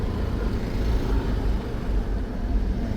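Steady low rumble of car traffic stuck in a jam on the overland road toward Trunyan village, engines idling and rolling nearby without speech.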